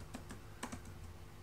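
Typing on a computer keyboard: a quiet scatter of close, light key clicks in small irregular bursts, several taps in quick succession with short pauses between.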